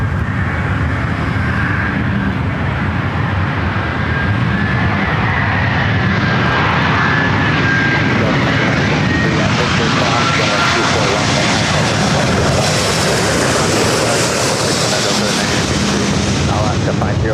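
A jet airliner landing on runway 24 right at Los Angeles International Airport makes a loud, continuous engine roar that swells and shifts in pitch as it passes.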